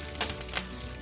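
Fresh curry leaves drop into a hot pan and crackle and spit in a short, fairly close burst of sizzling that quickly settles, with no talk.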